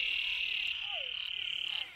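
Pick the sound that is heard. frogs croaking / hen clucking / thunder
frogs croaking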